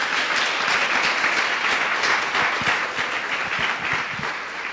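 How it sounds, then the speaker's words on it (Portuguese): Church congregation applauding together, a steady dense wash of many hands clapping that continues throughout without pause. "Dê uma salva de palmas ao Senhor."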